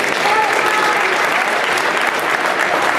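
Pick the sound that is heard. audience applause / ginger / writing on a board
audience applause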